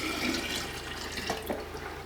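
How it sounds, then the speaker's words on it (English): Water from a tap runs and splashes into a container as four cups are poured for a homemade fermented drink, a steady close filling sound with a few gurgles and no talking. "And into this, we're going to put 4 cups of water."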